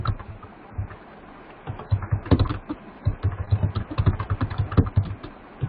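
Rapid, uneven clatter of fast typing on a computer keyboard, close and steady with short pauses between bursts of keystrokes.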